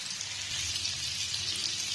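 Prawns frying in a pan for a prawn roast, a steady dense sizzle and crackle of hot oil, close and continuous with no talk.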